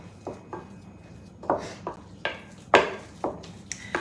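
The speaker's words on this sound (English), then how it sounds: "stir this all up" Potato patty mixture with Romano cheese stirred in a bowl, giving a series of quiet scraping and clinking strokes in an irregular rhythm, close and fairly soft.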